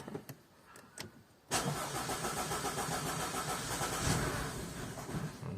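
A 2013 Audi A5 with a no-start fault cranks and catches, a few clicks then a sudden engine roar settling into a rough, uneven idle nearby.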